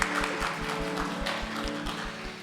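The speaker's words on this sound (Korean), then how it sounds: "우리 박수로 환영할까요?" A church congregation claps together in welcome during a Sunday service, a brief burst of dense, steady applause in a room.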